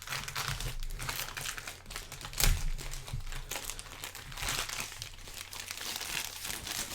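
Continuous crinkling and crackling of shrink wrap being cut with scissors, with occasional tearing snips, close up, steady throughout with no talking.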